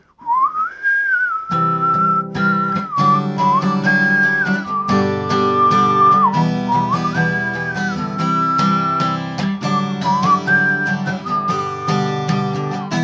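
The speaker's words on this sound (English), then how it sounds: "But I'll whistle it to give you an idea" A person whistles a bright, steady melody over a full accompaniment of chords, the tune weaving continuously for the whole stretch.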